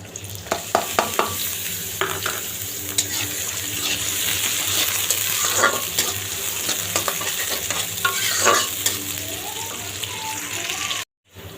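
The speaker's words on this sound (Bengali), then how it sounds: "দেখুন আমার পেঁয়াজ মরিচগুলো ভাজা হয়েছে" Chopped onions and chillies fry in hot oil in a large wok, giving a continuous close sizzle, with scraping stirs and occasional clacks of a spatula throughout.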